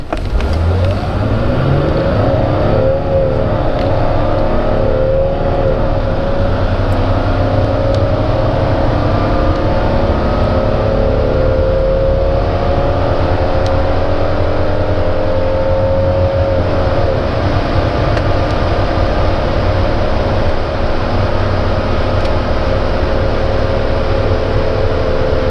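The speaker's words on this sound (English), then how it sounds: "So 0 to 100, let's have a look how good this old beast can do." A 1981 Mercedes 280CE W123 accelerates hard from 0 to 100, its engine note climbing steadily through the gears with rising, shifting harmonics, loud and continuous from inside the car.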